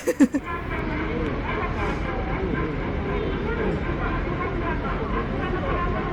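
A park train at Osaka Expo Park rumbles past close by, a steady loud roar of wheels and carriages filling the whole clip after a few brief knocks at the start.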